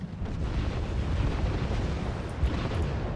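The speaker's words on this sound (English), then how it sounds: "There's the mortars" Mortar rounds explode in the real-time strategy game Wargame Red Dragon, giving a continuous heavy rumbling roar of blasts with a slightly stronger burst near the end.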